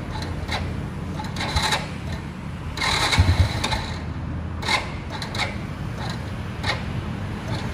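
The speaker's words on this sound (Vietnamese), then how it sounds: "Để em nổ máy anh em nghe nha, nổ máy anh em nghe" A used 2008 Honda Wave RS motorcycle with a slightly weak battery being started: repeated short cranking and sputtering bursts, one louder attempt midway, then a light engine running at idle, fairly close.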